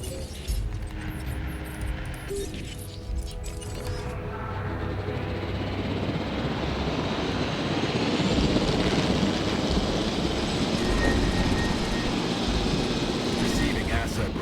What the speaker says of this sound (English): Right, get the helicopter.